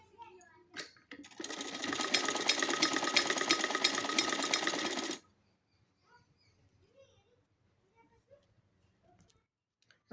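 A sewing machine runs in one steady, loud burst of about four seconds, stitching leftover suit fabric into a small baby cap. It stops abruptly, and a quiet room follows with faint small sounds.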